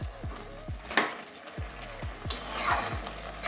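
Fish head and gourd leaf curry being stirred in a pan, with repeated scraping and knocking strokes of a spoon against the pan over a low simmering bubble, close and moderately loud.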